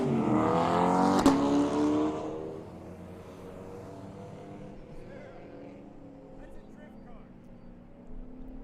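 Race cars running on the GRIDLIFE Grand Circuit track, a loud engine roar up close at the start that fades into a steady distant drone of several cars circulating, with a commentator talking over it.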